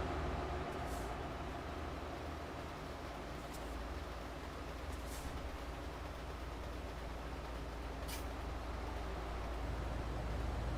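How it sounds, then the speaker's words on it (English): An ICE German high-speed train passes in Euro Truck Simulator 2 near a bridge, a steady broadband rushing roar that holds evenly throughout, with a few faint clicks over it and no talking. "there we have the ICE train, which is the German high-speed train"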